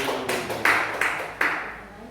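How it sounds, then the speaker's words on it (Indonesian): A small group at a teachers' workshop gives a brief round of clapping, a few loose claps with several sharper bursts, fairly quiet in a room with little else going on. "Tepuk tangan buat Ibu."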